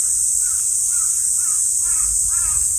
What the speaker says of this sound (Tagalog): Ingay ng mga uwak.